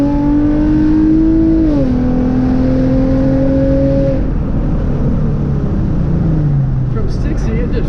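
Hyundai Genesis Coupe 3.8 accelerating hard from a rolling 60 mph, a loud steady engine drone rising in pitch, then a brief shift drop before it climbs again, with wind and road roar throughout.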